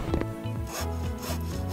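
A saw cuts through a wooden board in a video game about building a wooden house, heard as loud, repeated rasping strokes in an uneven rhythm with no talk.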